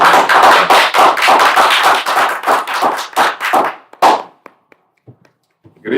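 Audience at a Caribbean security lecture breaks into a round of applause, a dense run of loud, close claps lasting about four seconds before thinning to a few stray claps and near silence.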